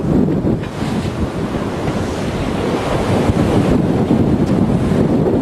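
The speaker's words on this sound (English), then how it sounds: "The wind got up in the past couple hours to around 35 knots" Strong wind of around 35 knots roars across a Gemini catamaran under sail, with continuous buffeting gusts and rushing water from the hull. The noise stays dense and unbroken throughout.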